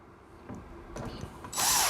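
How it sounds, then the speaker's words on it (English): A few faint handling clicks and knocks, then a short burst of a cordless drill whirring up loudly near the end as it drills into wood. "Get your cordless, let's drill a hole."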